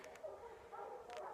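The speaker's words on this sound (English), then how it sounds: "I'm sure you can hear the barking." Faint dog barks and yips in the distance on a hiking trail near the North Mountain loop in Virginia, a few short bursts over a steady outdoor background hum.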